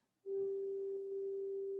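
An electronic tuner sounds a G4 reference tone for a GCEA ukulele, a single pure steady beep that starts abruptly and holds evenly at a close, moderate level.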